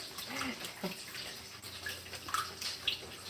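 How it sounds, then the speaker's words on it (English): Milk pours steadily into a bowl for French toast batter, a close, continuous liquid splashing with a few faint clinks. "And then I'm going to add milk to this, of course."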